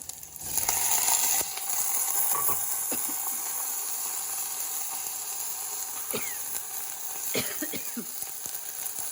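Broad beans tipped into a hot frying pan for a bean and tomato curry, setting off a steady, close hiss of sizzling oil that carries on throughout with a few faint clinks of stirring.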